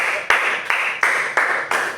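A class claps together for a student in a rhythmic, unison pattern: five or six loud, evenly spaced claps, each with a short ringing tail, close and clear.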